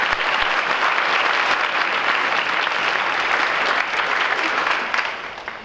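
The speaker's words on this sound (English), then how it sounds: "one more round of applause for musicians" A concert audience at a high school fall choir concert applauds the musicians, dense and loud clapping that sustains evenly for several seconds before starting to thin out at the end.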